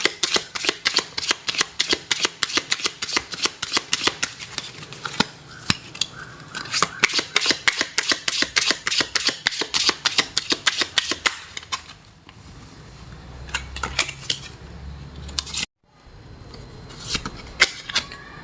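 Tarot cards being shuffled by hand, a fast run of crisp riffling flicks in bursts, close and loud, ending with a few slower taps as the deck settles.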